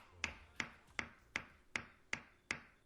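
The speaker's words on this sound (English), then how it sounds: "And what's that sound? Some kind of hammering." Hammering in the Super Danganranpa Another 2 video game: seven sharp, evenly spaced metallic taps about a third of a second apart, each with a bright ringing ping, fairly quiet and heard alone without talk.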